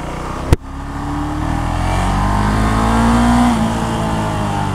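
Husqvarna Vitpilen 701, a 700cc single-cylinder motorcycle, being ridden: a sharp click, then a steady close engine drone that rises gradually in pitch before easing off, with no talking.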